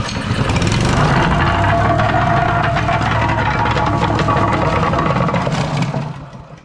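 A plate compactor engine runs loud and steady at high revs with a close, constant roar, then begins to fade near the end.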